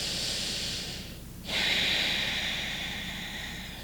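Steady, close breathing during a deep-knee-bend yoga stretch on a yoga wheel: a long soft exhale, a brief pause around the midpoint, then another breath drawn in and let out, with no talking.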